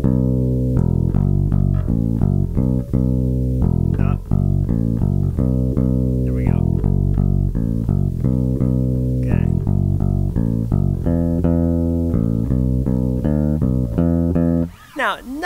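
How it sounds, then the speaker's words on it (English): Bass guitar playing a blues line with each note left to ring out, a steady sequence of sustained low plucked notes continuing loudly throughout. "So if I just let the notes ring, it's going to sound kind of like this."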